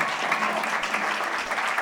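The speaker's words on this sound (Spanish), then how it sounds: "un aplauso para Pepe, por favor" An audience applauds designer Pepe Vargas at a lecture, producing a short, dense burst of continuous clapping from a sizeable crowd that stays level and even throughout.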